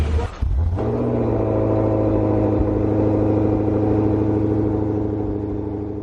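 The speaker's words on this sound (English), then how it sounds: "Alpha V8 in work." An Alfa Romeo Montreal V8 idles and swells into a sustained, rumbling rev close by, the note rising and holding steady before easing off, with no talking over it.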